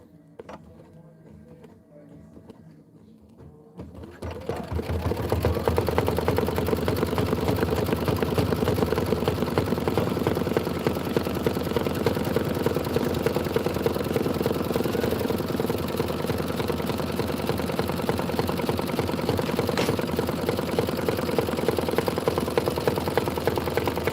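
A sewing machine stitches through vinyl, starting after a few quiet seconds and then running in a steady, close mechanical whir with a fast repeating needle rhythm that continues to the end.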